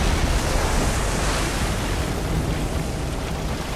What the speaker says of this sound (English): All the water's drained now.